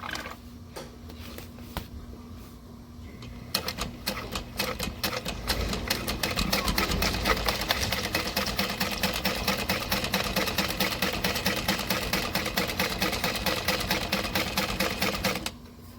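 A sewing machine stitches a backpack seam with a quarter-inch seam allowance, starting slowly, then settling into a steady, rapid, close mechanical chatter that runs for several seconds before stopping abruptly.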